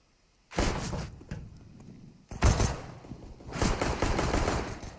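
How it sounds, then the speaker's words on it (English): Bursts of gunfire in a Counter-Strike esports match between NAVI and Liquid at ESL One Cologne 2019, loud rapid shots in two volleys that break a brief lull, with the second volley sustained to the end. "Shots with the bomb down, and Simple fighting the favor."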